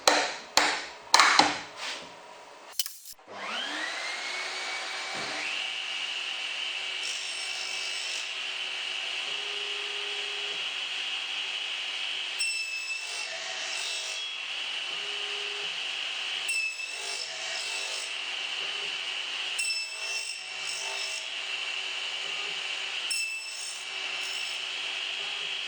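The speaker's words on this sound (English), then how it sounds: "The sides of the fingers are cut first to avoid the blade getting deflected by only partially cutting on its edge" Arduino computer-controlled box joint jig cutting finger joints in wood with a blade: a few loud clunks, then a tool spins up into a steady high whine that runs on through the cut, with light scraping ticks throughout.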